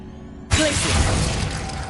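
A Glacius ice spell cracks and shatters in the Hogwarts Legacy video game: a sudden loud icy crash after a quiet moment, followed by a sustained glittering, crumbling decay.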